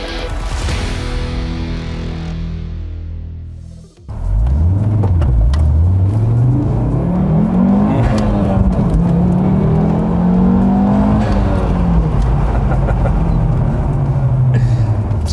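An Audi super estate's engine revs hard during a clutch kick, dropping out abruptly before surging back with loud, rising and falling revs that carry on without speech.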